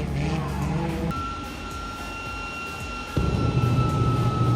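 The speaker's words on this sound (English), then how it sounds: "We had a jet engine that was put into a truck, giving us a show." Jet engine fitted in a truck at an oval race track, a steady high-pitched whine over a broad, continuous roar that swells louder near the end.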